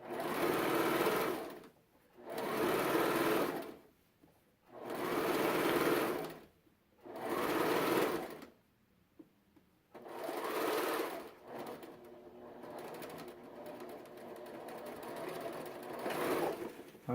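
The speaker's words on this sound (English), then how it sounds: "I am doing the 5/8 of an inch seam." A sewing machine runs a 5/8 inch seam in loud, close bursts of a few seconds each, separated by short pauses, ending in a longer, slightly uneven stretch of stitching.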